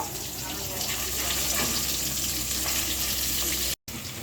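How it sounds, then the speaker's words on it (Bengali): Rohu fish fries lightly in oil, producing a continuous, dense sizzle at close range that holds steady and cuts out briefly just before the end. "রুই মাছটা একটু ভেজে নিচ্ছি, হালকা ভেজে নিচ্ছি।"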